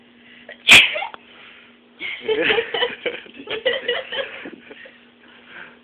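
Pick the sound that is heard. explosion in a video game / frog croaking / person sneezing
person sneezing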